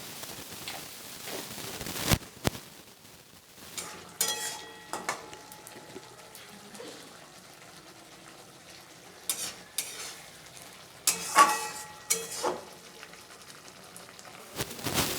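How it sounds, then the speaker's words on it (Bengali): Masala spices with a little sugar are fried and stirred in oil in a pan, giving a steady soft sizzle broken by intermittent scraping strokes of the spoon, close and moderately loud. "এবার তেল ছাড়া অবধি ভালো করে মশলাটাকে কষিয়ে নিতে হবে"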